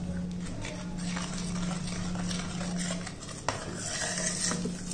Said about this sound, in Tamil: நல்லா இதை கிண்டி விடணும்